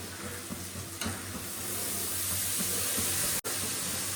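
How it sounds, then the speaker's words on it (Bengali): Shredded cabbage hits a hot pan and settles into a steady hissing sizzle with steam, a few soft clatters early on and a brief sharp dropout near the end, no voices. "বাঁধাকপিটা দিয়ে দিই, আর কষানোর দরকার নেই।"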